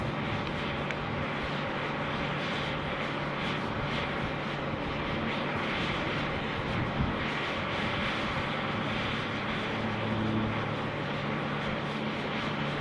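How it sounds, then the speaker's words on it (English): A Jetstar Boeing 787 is towed from the domestic terminal toward the international side at Sydney Airport, heard as a steady, even rumble of airport machinery that holds at moderate, distant loudness throughout. "Jetstar 787 being towed over from the domestic terminal"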